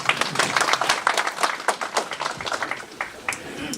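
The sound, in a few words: audience applause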